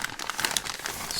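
Close, dense crinkling of a plastic bag being handled while a Panasonic R-77 portable AM radio is unboxed, a continuous busy rustle with no talk.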